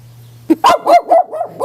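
A small, nervous dog met along the Camino Portugués in Portugal barks in a quick run of four or five sharp yaps, close and loud against a quiet outdoor background.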